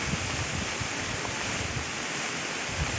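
Muddy floodwater rushes after a sudden cloudburst, making a steady, unbroken roar with a gusty rumble underneath, heard alone without voices.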